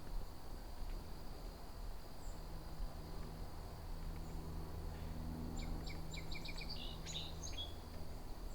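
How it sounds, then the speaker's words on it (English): A song sparrow singing outdoors in autumn, quite faint and distant, one quick run of buzzy trilled notes near the end over steady cricket hum. "Song sparrow song."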